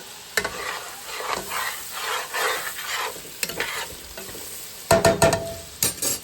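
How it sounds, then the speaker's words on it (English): A flat-edged spoon scrapes stuck bits off the bottom of a pot of Cajun sauce piquant, with repeated close scraping and stirring strokes over a faint simmer and several sharper clanks toward the end. "to pick up all the stuff that was sticking down on the bottom, and we got it all off of there"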